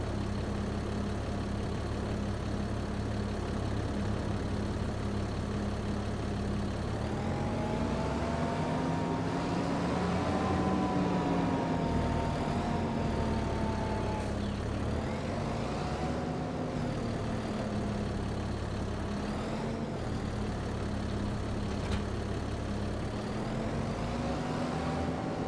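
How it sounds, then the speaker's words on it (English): In Farming Simulator 25, an old, chunky tractor engine runs steadily with a deep, throbbing hum. Its pitch rises and falls slightly as the revs change, and it carries on loud and unbroken throughout. "It's a chunky old tractor."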